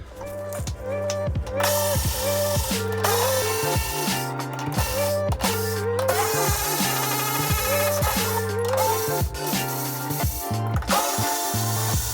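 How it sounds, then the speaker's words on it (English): A ratchet wrench removing bolts from a damaged race car frame, a loud close run of rhythmic clicking strokes repeating steadily throughout. "we're gonna pull the rest of these bolts out of there."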